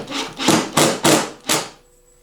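Fasteners are driven into pre-drilled holes in a wooden RC monster truck freestyle ramp, making four loud, rasping bursts in quick succession, close up, followed by near silence.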